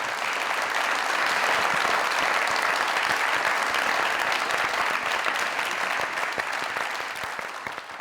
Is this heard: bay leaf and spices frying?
no